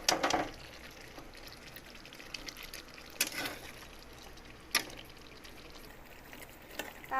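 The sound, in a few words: pouring water into the chicken gravy pan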